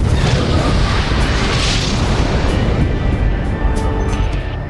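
The Halo Wars MAC cannon fires as a heavy, sustained booming roar that rumbles loudly and evenly throughout, with a rushing, surf-like wash on top.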